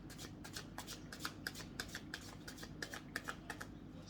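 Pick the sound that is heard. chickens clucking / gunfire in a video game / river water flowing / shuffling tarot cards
shuffling tarot cards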